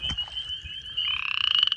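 Frogs call from an early spring pond, one close voice giving a trilling call that speeds into rapid, evenly pulsed croaks, loud and alone against a quiet background.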